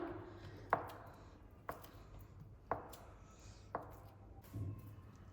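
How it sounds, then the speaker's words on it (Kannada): A knife chopping food into small squares on a board: four distinct, evenly spaced strikes about a second apart, close and fairly quiet against a faint background hum. "ಇದನ್ನು ಪುನಃ ಹೀಗೆ ಮಾಡಿ ಹೀಗೆ ಸಣ್ಣ ಸಣ್ಣ ಕಟ್ ಮಾಡ್ಕೊಳ್ತೀನಿ."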